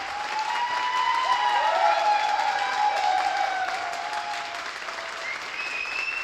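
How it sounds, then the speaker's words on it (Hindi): A crowd at a company's second-anniversary event breaks into loud, sustained applause, with raised voices and cheering rising over the clapping before it eases slightly toward the end. "एक बार मैं चाहता हूं कि अपने लिए एक बार जोरदार ताली बजाएं"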